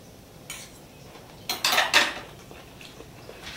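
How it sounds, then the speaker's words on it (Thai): A spatula scrapes and clatters against a pan of chili paste with pork cracklings in a few quick, close bursts, the loudest near the middle, with quiet stretches between them. "เดี๋ยวเราขอผัดอีกแป๊บนึงนะครับ"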